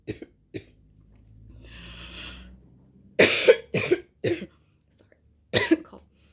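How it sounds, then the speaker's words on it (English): Several sharp coughs from one nearby person, a couple early then a cluster of three or four harsh bursts later, with a soft breathy lull between them. "sorry, cough."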